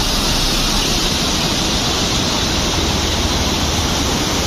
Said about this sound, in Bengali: এই ফলসের জলটাই মাধুরী লেকে গিয়ে পড়ছে